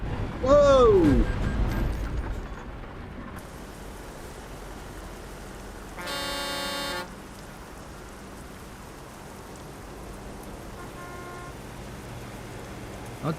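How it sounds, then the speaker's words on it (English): In Euro Truck Simulator 2, another vehicle's car horn blares for about a second, loud and sustained, over continuous rain on a truck in wet traffic. "Don't beep your horn at me, buddy."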